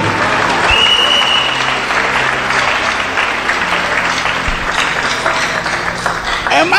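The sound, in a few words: congregation applauding in church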